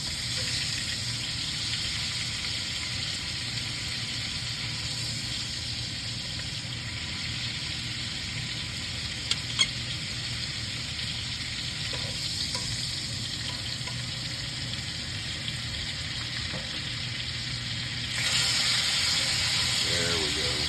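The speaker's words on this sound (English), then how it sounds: "Sear that fat and its own fat in that butter." Raccoon meat with its own fat sears in butter in a pan, a steady dense sizzle and crackle running throughout with a few faint clinks, growing slightly louder near the end.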